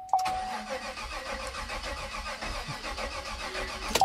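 A GMC engine from 2015 that will not start cranks continuously for about four seconds, a close, steady rhythmic churning of the starter with no catch, bracketed by a high beep at the start and end.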